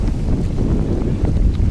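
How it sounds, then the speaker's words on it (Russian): Strong wind buffets the microphone in a steady low roar at a fishing spot, with waves sloshing underneath and no voices. "Здесь вообще ветрено."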